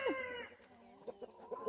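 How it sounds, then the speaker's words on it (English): Chickens in a coop filled with deep compost, a close rising squawk followed by soft, quiet clucks at irregular intervals. "The chickens go through it, pick through it, get any bugs and stuff out of it"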